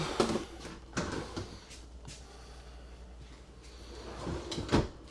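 Soft-close dovetail drawers in a 2027 KZ Durango 302RLT fifth-wheel RV are opened and shut several times, each a muffled slide and thump, close by in a quiet interior.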